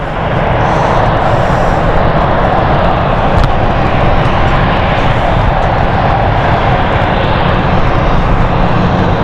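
A KLM airliner begins taxiing at London City Airport on a stormy night, its engines giving a loud, steady roar throughout with no pauses.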